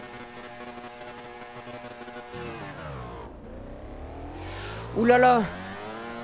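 Racing motorcycle engine in a Valentino Rossi The Game race at Laguna Seca, revving steadily with a droning tone that dips then climbs again, under excited commentary and a brief exclamation.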